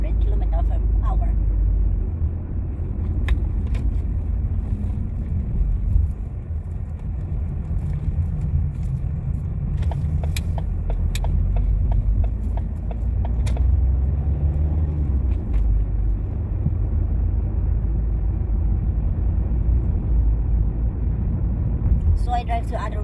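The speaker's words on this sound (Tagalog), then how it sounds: "So I drive the other way, guys, going back home." A car being driven on a road, likely a German autobahn, with a steady low engine and road rumble throughout and occasional faint clicks.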